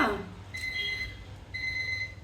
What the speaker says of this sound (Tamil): இது வந்து அலாரம் எதுக்குள்ள அலாரம்னா